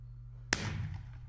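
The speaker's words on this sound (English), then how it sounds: "Firework!" A single sharp firework bang cracks out suddenly after a low steady hum, followed by a brief crackling, echoing tail.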